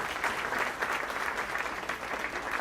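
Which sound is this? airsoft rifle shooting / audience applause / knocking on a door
audience applause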